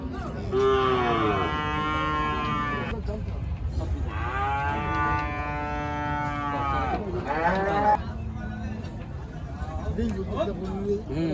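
Cattle low repeatedly at a busy Pabna cattle market, long drawn-out moos rising and falling one after another, close and loud over a steady background of crowd noise.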